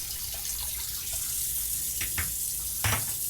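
Water runs steadily from a bathroom tap while someone shaves, a constant close hiss with a few brief louder splashes near the end.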